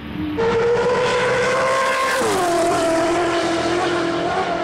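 A 1965 Ford Mustang Notchback ex-Super GT race car engine roars at high revs, holding a steady howl, then dropping pitch as it shifts, powerful and close.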